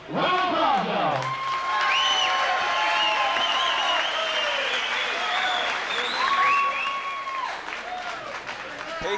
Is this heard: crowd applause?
yes